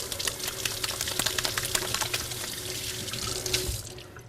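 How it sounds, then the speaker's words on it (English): Tap water runs steadily into a kitchen sink while something is rinsed under it, a close continuous splashing stream with small irregular spatters and no talking. "So let me rinse a little bit."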